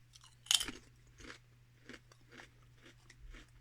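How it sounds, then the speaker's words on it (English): Thin potato crisps crunched between the teeth, a sharp loud first bite followed by a steady series of softer chewing crunches at close range, with no talk. "You do get a good crunch on them."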